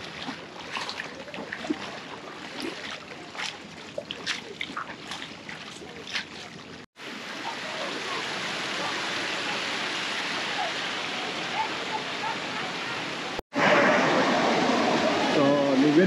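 Monsoon water rushes at Mulshi dam as a loud, continuous roar. Voices and some louder noises come in the first part, and the roar builds and fills the rest.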